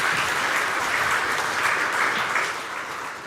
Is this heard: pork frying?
no